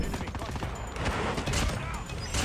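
Rapid bursts from a PKM machine gun in a shooter video game, with dense crackling gunfire running through the whole stretch alongside other battle noise.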